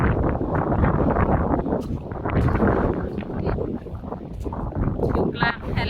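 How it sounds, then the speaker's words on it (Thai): Strong wind buffets the microphone in an exposed, open area out by the sea, a loud continuous roar with gusty surges and rumble throughout, while someone talks over it. "ลมก็แรง"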